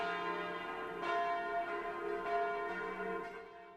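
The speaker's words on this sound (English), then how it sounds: "church bells rang out" Church bells ring steadily in rich overlapping tones, with strikes renewing every second or so against a continuous hum of lingering resonance.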